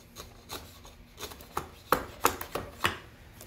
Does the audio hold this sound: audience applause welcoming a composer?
no